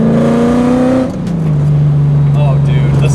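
Widebody 1965 Ford Mustang restomod with a swapped Coyote V8, at Garage Collective, loud and close, its rising engine note dropping as the throttle lifts and then settling into a steady lower drone, with brief voices in the background.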